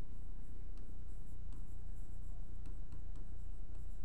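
Marker or chalk writing on a classroom board during a maths lesson, a steady scratchy scraping with soft strokes and taps running continuously, close and fairly loud, with no talking.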